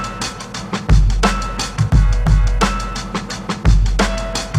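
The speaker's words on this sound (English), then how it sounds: "bringing down the attack, which is going to be reducing the transient or the punchiness of this drum sample" A hip-hop drum loop in FL Studio runs through a drum shaper with its attack lowered, so the kicks and snares land softer and less punchy in a steady repeating pattern, with a faint sustained tone near the end.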